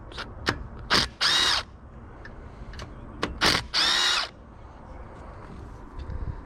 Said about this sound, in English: is on my ratchet for thermostat. housing bolt.